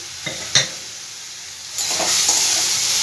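A paste of ground ginger, garlic and onion frying in a little oil, with a couple of sharp utensil taps early on, then a steady close sizzle that rises and holds as the paste is stirred.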